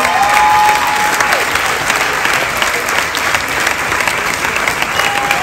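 A crowd applauds participants at an electric-vehicle rally podium in Essaouira. The clapping is dense and steady throughout, with no talk over it.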